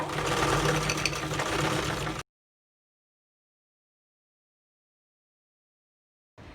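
A sewing machine runs a steady stitching burst on salwar fabric for about two seconds, close and fairly loud, then stops into silence before a short restart at the end.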